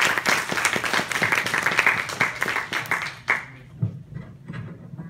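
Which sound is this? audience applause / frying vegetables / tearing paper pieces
audience applause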